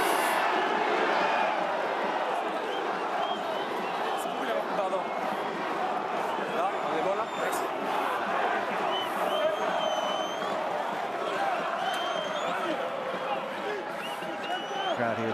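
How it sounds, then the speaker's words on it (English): A rugby crowd at Stade Mayol in Toulon during a Top 14 match against Section Paloise roars and cheers steadily throughout, a dense, sustained wall of noise with whistles and shouts rising above it. "Crowd here at Stade Mayol really scenting victory"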